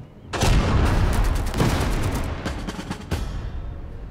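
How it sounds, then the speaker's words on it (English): Mortar fire hits in Total Tank Generals during the Second Battle of El Alamein: a sudden loud blast followed by a crackling roll of gunfire and several sharp impacts that slowly fade. "Now the mortar's gonna do its damage to us"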